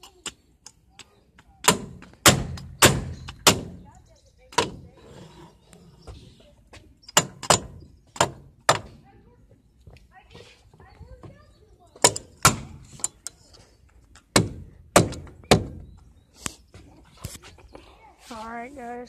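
A hammer bangs hard on something in a series of loud, sharp strikes, grouped in rapid bursts of three or four with short pauses between them. The blows are close and dominant, with a voice briefly at the end.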